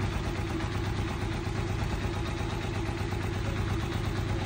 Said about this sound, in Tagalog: yun yung ating sound check ng ating Honda TMX